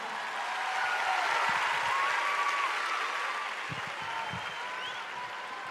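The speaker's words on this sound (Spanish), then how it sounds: "les quiero pedir un aplauso para todos ustedes" A festival audience at Viña del Mar 2019 applauds a stand-up comedian, a dense, steady wash of clapping sustained throughout with a few brief voices rising from the crowd.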